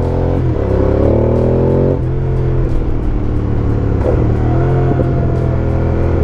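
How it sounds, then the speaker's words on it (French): An Aprilia 1200 Caponord motorcycle on its stock exhaust revs loudly and close, the engine note rising and falling through a steady rumble, with crackling pops from the exhaust. "Ouais, ça pétarade. Et le pot d'origine, il pétarade"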